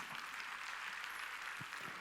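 A church congregation at a Wednesday worship service applauding, a dense, steady wash of many hands clapping that stays even and moderately distant throughout.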